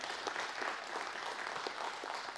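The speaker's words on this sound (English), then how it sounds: "That deserves a round of applause." An audience gives brief, fairly quiet applause, a dense wash of overlapping claps with no voices standing out.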